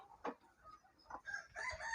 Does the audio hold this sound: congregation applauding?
no